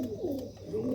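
Pigeons coo in a soft, continuous burbling phrase, close by, with a low room rumble beneath.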